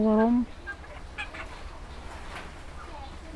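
Broiler chickens cluck softly in a shed, with a clear call at the start and again at the end and faint scattered clucks in between.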